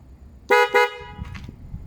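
Two quick honks from a Honda ADV 150 motorcycle horn, close and loud, followed by a low engine idle.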